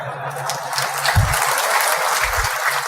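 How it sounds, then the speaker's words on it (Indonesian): An audience at a morning religious lecture applauds in steady, continuous clapping that fills the hall at moderate loudness, with a few low thumps mixed in. "Ini tepuk tangan terus ini"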